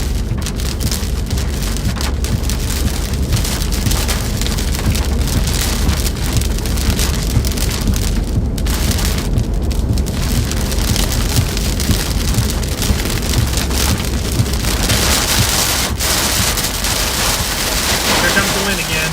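Heavy rain pounding on a moving storm-chasing vehicle during a tornado-producing storm, a loud continuous wash of drops with road noise and brief gusts, steady for the whole stretch.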